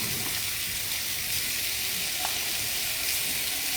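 Shrimp and salmon sizzle in a pan over a medium-high burner, a steady close hiss of frying with no break and no voices.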